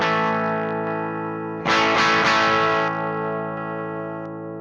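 A sustained electric guitar chord through a Mesa Boogie Mark IIC+ amp with its bright switch engaged, a brighter, sharper burst of strummed high end in the middle before it rings out.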